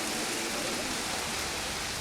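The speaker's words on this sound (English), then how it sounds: "Also, I set on rain and it's actually raining." Steady rain falls in the video game Jurassic World Evolution, an even, dense hiss of rainfall that holds constant throughout without any break.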